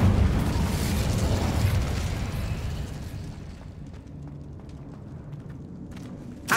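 The Incendio fire spell is cast in Hogwarts Legacy, a loud, roaring whoosh of flame that fades over about three seconds into a quieter crackle, ending with a brief pop.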